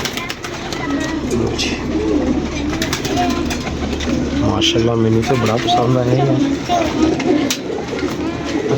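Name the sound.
pigeons cooing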